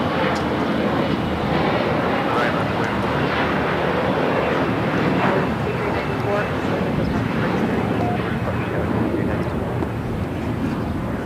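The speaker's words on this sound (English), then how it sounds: "Cathay Pacific now starting the takeoff roll." A Cathay Pacific jet beginning its takeoff roll at LAX, heard as a continuous loud broadband engine roar that holds steady throughout, with wind buffeting the microphone.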